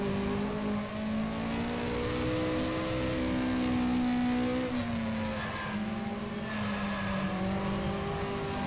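Simulated Lotus Cortina engine racing around Oran Park in rFactor, a steady loud drone with harmonic tones rising and dipping through gear changes, close and continuous with no talk over it.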